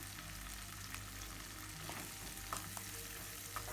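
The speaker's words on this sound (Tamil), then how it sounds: "நல்லா வதக்கணுங்க பூண்டும் வெங்காயம் நல்லா சுருளை வதங்குற வரைக்கும் வறுத்து எடுத்துக்கலாம்" Garlic and onion sautéing in a pan for a South Indian garlic chutney, a steady close sizzle and fry with faint stirring scrapes throughout, no voices.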